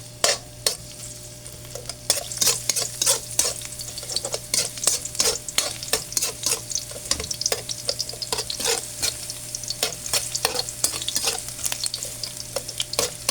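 Garlic fries in a pan for sarsyadong isda, crackling and popping in dense, irregular bursts over a constant low hum, loud and close with no talk.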